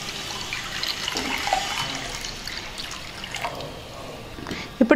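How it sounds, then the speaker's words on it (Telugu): Water pours steadily into a cooking pot on a lit kitchen stove to boil toor dal, a soft continuous splashing stream, ending in a short sharp clatter of metal. "పప్పు ఉడకడానికి సరిపడా నీళ్లు వేసుకుంటున్నాను."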